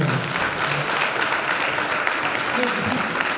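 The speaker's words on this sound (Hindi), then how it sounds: "एक बार जोरदार तालियां" Audience at a church Christmas celebration breaks into loud, sustained applause, a dense wash of clapping throughout with faint voices mixed underneath.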